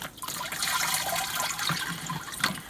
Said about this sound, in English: you're just pushing all the water out of it and down into the bucket.